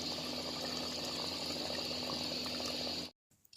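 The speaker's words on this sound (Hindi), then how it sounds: "अब इसमें जो चनों का पानी निकाला था वो भी शामिल कर देंगे।" Chickpea cooking water poured into a pot of Lahori chikar cholay, a steady broad liquid rush with a bubbling, boiling texture that runs for about three seconds and then cuts off abruptly.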